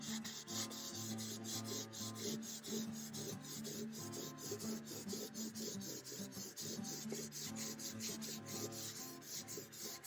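Sandpaper rubs lightly over the top of an old mandolin in quick, steady back-and-forth strokes, close and continuous, with no speech.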